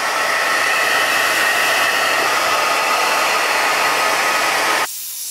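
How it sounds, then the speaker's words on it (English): A hair dryer on low heat blows onto curly hair through a kitchen strainer, a steady loud broadband whoosh running unbroken for about five seconds before it cuts off abruptly. "with the blow dryer, I'm just gonna turn it on a low heat"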